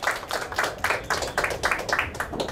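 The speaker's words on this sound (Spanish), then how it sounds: "el doctor Carlos Enrique Navea Méndez, que recibimos con fuertes palmas también, por favor." An audience at a 2019 national health sweep event in Chincha, Peru, claps steadily for an honoured doctor, with a dense, continuous patter of many hands at close range.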